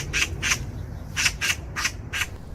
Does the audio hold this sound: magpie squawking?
yes